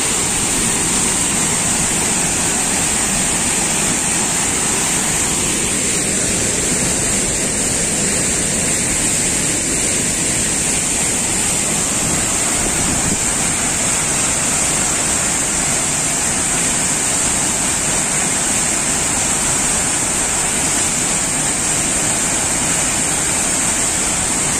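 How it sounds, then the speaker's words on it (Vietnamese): The Hang Dơi waterfall near Kbang in Gia Lai roars as a steady, loud, close wall of rushing water that holds unbroken for the whole stretch, with no voices over it. "Quá kinh khủng, thác hang dơi."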